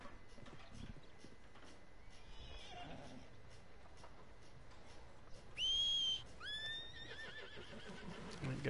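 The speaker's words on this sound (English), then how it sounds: "Horsey." Horse in Red Dead Redemption 2 gives two loud, close whinnies in quick succession near the end, over a steady outdoor game ambience with faint hoof clip-clops earlier.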